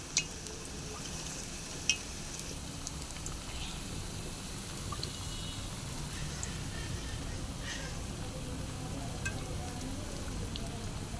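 Chicken chops fry in hot oil in a wok, a steady close sizzle and crackle with a couple of sharp clicks near the start.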